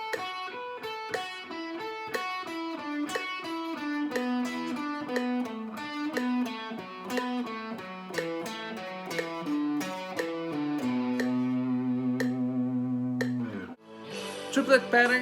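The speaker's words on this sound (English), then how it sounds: "when you have the pattern with 4 notes, it will sound like this if you're playing triplets" A rapid run of plucked, distorted guitar notes, a four-note sixteenth-note pattern played as triplets in an even repeating pattern, ending on a held chord and a brief scratchy strum.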